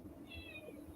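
A person imitates a cat's meow with a short, quiet, high-pitched mewing call lasting under a second over low background hum.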